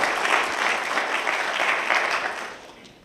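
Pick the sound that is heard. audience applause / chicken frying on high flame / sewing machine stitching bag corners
audience applause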